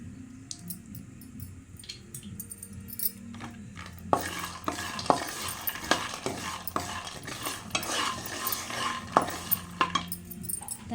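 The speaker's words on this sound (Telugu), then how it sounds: "పల్లీలో కొంచెం ఆయిల్ వేసుకుందాం బాగా వేగడానికి" Peanuts frying in a little oil in a pan while making Mysore bonda, with a soft sizzle that becomes busy, clattering stirring and scraping about halfway through, close and steady with no talking.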